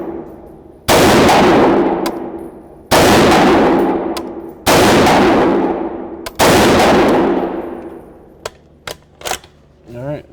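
A PTR HK GIR rifle fitted with a red dot sight fires four loud, sharp shots at a target, spaced about two seconds apart, each with a long ringing decay, followed by fainter clicks and knocks.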